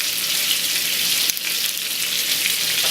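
A pot of stuffed tomato stew with mushrooms cooks on the stove, giving a steady close sizzle and bubbling with one brief stir, and nobody talks.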